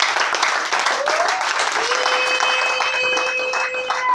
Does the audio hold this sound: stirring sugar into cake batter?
no